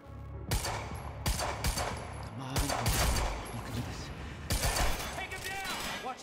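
Monarch forces firing guns in the video game Quantum Break, bursts of loud automatic gunfire in repeated volleys, with voices shouting in between.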